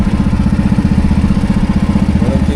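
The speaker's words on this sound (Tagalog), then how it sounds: "Walang tigil yung makina na yan." A fishing boat engine runs nonstop at sea, chugging with a loud, close, steady rhythmic beat and no pauses.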